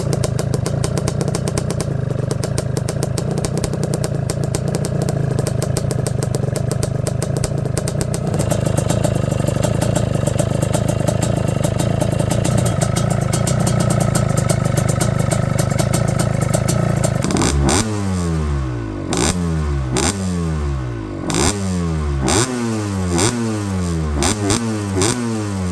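A Tri-Z 250 three-wheeler engine runs loud and close, first a sustained steady roar, then a series of sharp repeated revs rising and falling in quick succession, with no voices.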